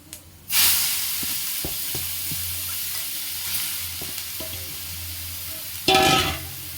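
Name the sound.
grated beetroot sizzling in black mustard seed tempering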